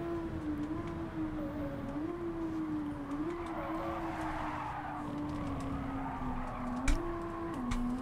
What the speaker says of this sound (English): I'm struggling here in the Nissan to control this car on the tyres, but I really want to catch up with Caruso